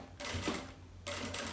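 A sewing machine stitching a bag seam and then backstitching, two short bursts of whirring motor with a brief pause between, close and clear.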